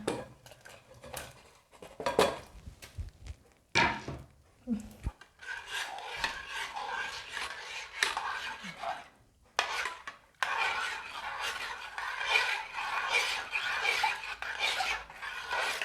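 A spoon repeatedly scraping and rubbing against a bowl while stirring potato salad with vegetable seasoning powder, a steady run of gritty strokes broken by short pauses and a couple of louder knocks.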